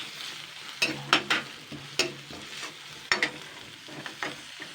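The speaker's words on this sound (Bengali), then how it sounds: "এবার যে আদা রসুনটা রেখেছিলাম সেটা আমি দিয়ে দিচ্ছি এটাকে আমি এক মিনিট মতো নাড়াচাড়া করে নেবো" Onion, chilli, ginger and garlic frying in a pan for a taro leaf (kochu shak) dish are stirred, with a steady sizzle and sharp spatula scrapes and clinks at irregular intervals, close and moderately loud, no talking.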